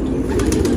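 Pigeon cooing during a Turkish pigeon-catching outing, a soft low murmuring coo repeating steadily through the short moment, close by with no talk over it.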